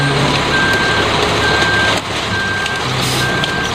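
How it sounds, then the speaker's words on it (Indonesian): A concrete mixer truck reverses, giving four or five evenly spaced warning beeps over a steady, close engine rumble. "Widih, lihat, teman-teman, ada mobil truk molen."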